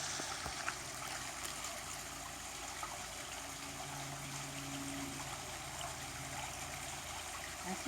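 A recirculating garden creek stream trickles steadily over rocks, a soft continuous wash of water with a faint low pump hum, even and unbroken throughout.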